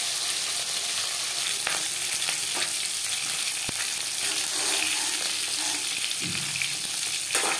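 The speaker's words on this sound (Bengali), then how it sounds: "মাছ আমি হালকা করে ভেজে নেব।" Fish pieces frying lightly in hot oil in a pan, a steady close sizzle throughout with occasional scraping stirs and clicks of a utensil, no voices.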